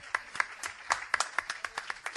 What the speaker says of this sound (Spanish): Aplauso muy grande para el prologuista.